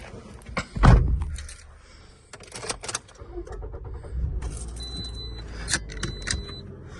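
Car keys jangle as a hiker fishes them from a backpack and climbs into a car at a mountain trailhead after a gravel road, with door thunks and shuffling close by, fairly quiet overall.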